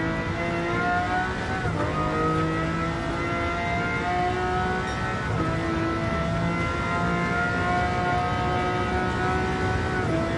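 In Gran Turismo 7, a car running on nitrous holds a loud, sustained high-revving engine whine down a long straight, its pitch shifting slightly as it builds speed.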